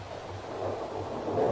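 Steady rain with a continuous broadband hiss, under deep, rolling thunder rumbles that swell and fade during a night storm.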